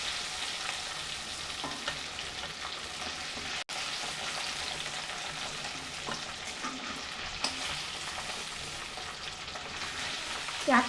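Chicken pieces for restaurant-style chicken Afghani frying lightly in a pan, a continuous close sizzle with occasional stirring scrapes and taps throughout, no talk.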